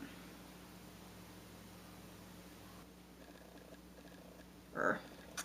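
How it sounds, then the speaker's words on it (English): A cat purrs as a soft, steady low rumble close by, continuing evenly throughout before a short, sharper sound breaks in near the end. "Purr."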